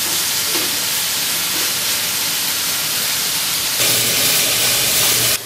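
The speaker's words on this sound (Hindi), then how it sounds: "और तेज आंच पर इसको भून लें।" Chicken pieces frying on high heat for hariyali kabab, a loud, dense sizzle and hiss that fills the clip without pause and grows a little stronger toward the end.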